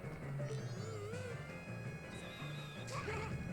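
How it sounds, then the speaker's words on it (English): Clay pots smashing in the video game Zelda: Majora's Mask 3D, with a few sharp breaking crashes over a steady bed of game music. "I just can't help smashing pots when I see them."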